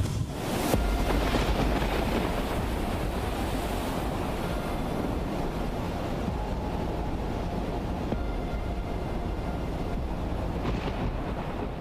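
Floodwater of the swollen Auranga River in Valsad, Gujarat, rushing after incessant heavy rain, a loud, steady broadband roar that continues without a break, with wind buffeting the microphone and no talk.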